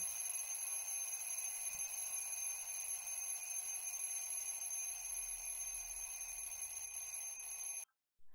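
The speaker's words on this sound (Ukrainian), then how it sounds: "будильника, який будить нас вранці." An alarm clock rings continuously in a high, shrill electronic tone, steady and loud for several seconds before cutting off abruptly.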